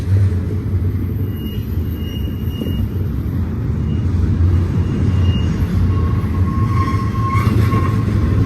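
An intermodal freight train led by two SD70ACe locomotives rumbles steadily past at Cajon, close and loud, with rolling wheel noise and faint metallic squeals throughout.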